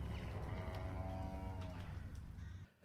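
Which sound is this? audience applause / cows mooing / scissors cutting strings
cows mooing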